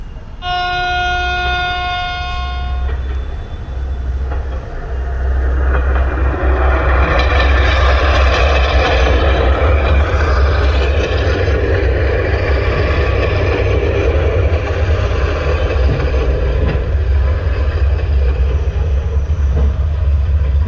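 A railway locomotive engine reversing toward its train for coupling on an Indian line: a loud two-tone horn blast opens, then a steady, close, heavy diesel rumble and rolling rail noise continue alone throughout.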